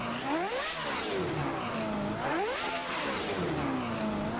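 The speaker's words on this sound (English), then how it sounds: "It's got a V8 in there, and that's that beautiful noise you can hear." A modded BMW E36 320 Judd V8 race car engine in the video game Assetto Corsa revs up and down in repeated surging sweeps, loud and close, with no talking.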